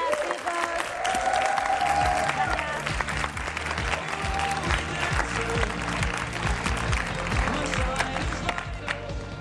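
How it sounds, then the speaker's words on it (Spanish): Studio audience applause on a Spanish TV talk show for guests Patricia Montero and Arturo Valls, loud sustained clapping with crowd noise and some cheering, a voice briefly speaking over it. "Un fuerte aplauso para ellos"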